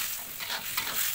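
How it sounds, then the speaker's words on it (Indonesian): Sambal terasi sizzles and fries in a pan while being stirred, a continuous close hiss with soft scraping of the spoon, no voices. "Masak kembali sambalnya"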